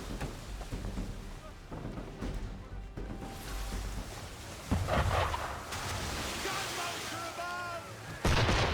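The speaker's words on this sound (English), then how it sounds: "Why is he shooting at us?" Ship cannon fire during a naval battle in Assassin's Creed III, heavy booming shots rolling in over rushing sea and wind, with distant blasts and voices mixed in.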